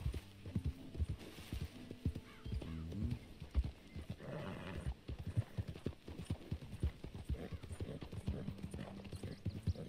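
Rapid clip-clop of horse hooves galloping close by in Red Dead Redemption 2 on PS5, a steady drumming rhythm, with a horse's whinny and some game-like background noise.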